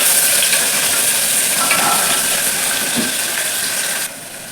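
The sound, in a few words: chopped onion frying in a pan for masala rice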